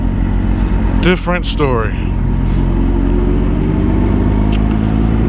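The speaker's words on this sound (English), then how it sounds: "Still out here riding with the homie on a Gixxer 600" A 1999 Suzuki Gixxer 600 sport bike engine drones steadily and loud while riding, a constant low rumble with wind noise, as someone speaks briefly over it near the start.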